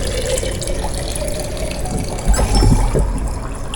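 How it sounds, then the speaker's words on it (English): A quart of water is poured into a crockpot already filled with vegetable beef soup, making a close, loud splashing gush that swells near the end, with no talking. "I'm going to put a quart of water in there."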